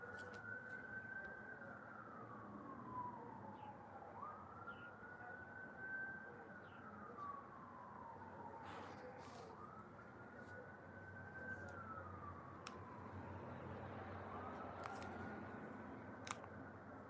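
An ambulance siren wails in the distance, a slow rising-and-falling tone that repeats about every four seconds over a low, steady background hum, with a few faint clicks and knocks.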